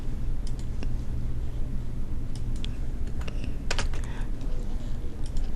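Keys clack on a computer keyboard as Alt+Enter line breaks are typed into an Excel spreadsheet, quick scattered clicks in small clusters over a steady background hum, close to the microphone.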